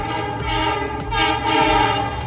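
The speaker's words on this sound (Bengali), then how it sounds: "ট্রেন কিন্তু আসছে দেখা যাক" The Uttarbanga Express horn sounds with a steady, sustained tone over the heavy rumble of the train with LHB coaches rolling in nearby, swelling slightly midway.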